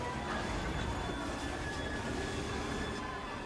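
A steam-era train rumbles along the rails in Assassin's Creed Syndicate, a dense continuous roar with faint wheel squeal, loud and steady throughout with no voices.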